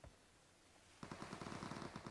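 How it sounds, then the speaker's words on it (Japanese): Automatic gunfire in the mobile battle royale game PUBG Mobile, a rapid burst of shots that begins abruptly after a quiet second and continues loud and rhythmic to the end. "こっちから銃声した。"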